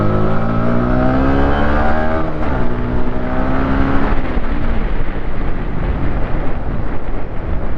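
A vehicle accelerating through city traffic, engine tone rising in pitch over several seconds before fading into steady loud road and wind rush, close to the microphone with no talk.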